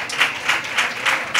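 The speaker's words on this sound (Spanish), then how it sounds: "Pues un aplauso para ti ahora ya" Brief applause of several people clapping at a small event, a fair-themed television programme. The claps come in rhythmic swelling bursts that sound fairly close and moderately loud.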